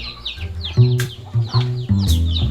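Chickens belonging to a backyard keeper on Siquijor cluck repeatedly and close by in short rhythmic bursts, with higher chirpy bird calls mixed above.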